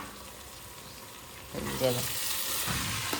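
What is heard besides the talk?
stirring poha (flattened rice) in a frying pan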